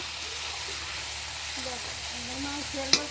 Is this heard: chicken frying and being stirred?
yes